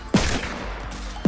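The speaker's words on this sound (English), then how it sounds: "his trusty revolver was able to take care of most of them" Two sharp revolver shots in Fortnite, loud and close, about a second apart, each with a brief booming tail.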